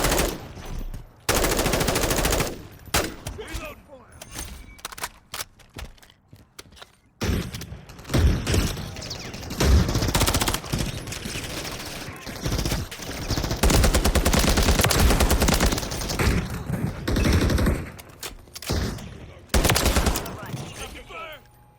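Rapid bursts of Mark 17 SCAR-H battle rifle fire in Call of Duty: Modern Warfare III, loud and close, with dense volleys separated by brief pauses and game voices breaking in between them.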